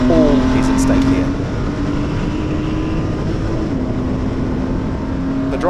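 Porsche race cars accelerate in a pack at a race start, a loud continuous engine drone with shifting pitch and overlapping motors, close and steady throughout.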